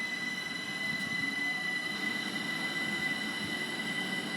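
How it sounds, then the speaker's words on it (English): A train rumbles steadily at a railway station in England with a broad, continuous roar and a thin high whine, like wheels squealing on the rails. The sound is loud and even throughout, with no voices. "So now I'm just at the station waiting for my train."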